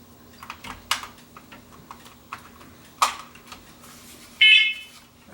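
Scattered light clicks and taps, then a single short, shrill electronic beep from a newly installed AC-powered combination smoke and carbon monoxide alarm powering up near the end.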